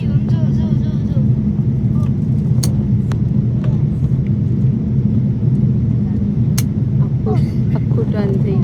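A passenger airplane taxiing and turning on the ground at an airport, heard from inside the cabin as a constant low engine rumble with faint voices and small clicks above it.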